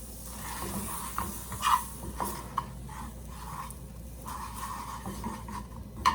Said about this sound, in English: you're just gonna continue melting it until it soaks in to the breadcrumbs